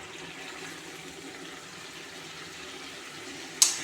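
Coconut milk squeezed from half a coconut is poured into a pan of chicken fry, making a faint, steady watery pour that ends with a short sharp clink.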